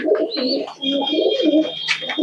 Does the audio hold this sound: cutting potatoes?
no